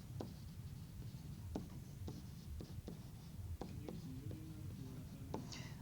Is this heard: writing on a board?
yes